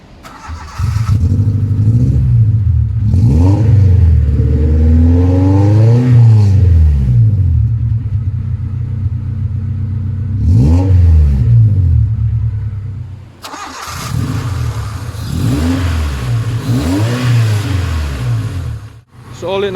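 A 1996 Honda Civic VTi engine cranks and starts, then revs repeatedly, rising and falling in loud, close sweeps between idle stretches.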